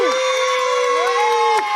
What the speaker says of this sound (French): Je vous demande un maximum d'applaudissements pour celle qui s'est inscrite